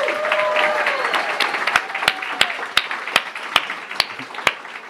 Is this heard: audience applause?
yes